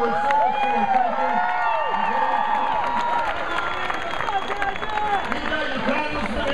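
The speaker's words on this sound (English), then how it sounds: "let's give Cassandra a huge round of applause for her service to our country" A rally crowd in Davenport, Iowa, applauding and cheering loudly, with a dense, continuous wash of clapping and scattered whoops throughout.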